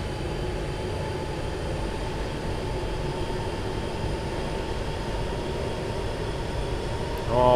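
A GP60M H2 diesel locomotive in Train Sim World 6 descends Cajon Pass with a steady, close engine drone and rolling rumble that swells slightly at the very end, with no voices.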